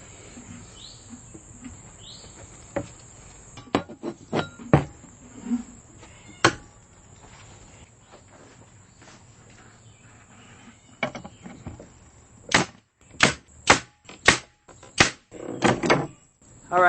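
Wooden trim pieces being hammered onto a beer display board, sharp sudden knocks scattered at first, then a fast run of closely spaced blows near the end, close by, against a quiet background with faint birdsong.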